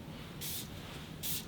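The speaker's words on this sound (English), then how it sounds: "I'm actually gonna spray this Fern Spring 24 perfume because it is amazing." Fern Spring 24 perfume is sprayed twice from a pump atomizer, two short, close hissing bursts separated by a brief pause against a quiet room.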